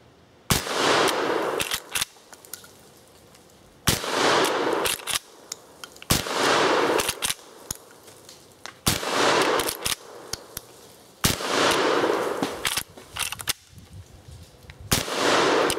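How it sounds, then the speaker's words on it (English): Rossi lever-action .410 shotgun firing at steel plate targets outdoors, sharp loud shots in uneven bursts, each followed by a brief ring or clang and short pauses between groups, with metallic clicks of the lever between shots. "This is actually a shotgun. It actually shoots the 410 cartridge."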